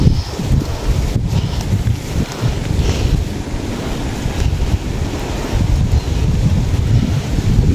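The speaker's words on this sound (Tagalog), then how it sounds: "Malakas po dito po ang hangin." Strong wind buffets the microphone in a constant loud, rumbling roar, with gusty surges and a faint wash of surf behind it.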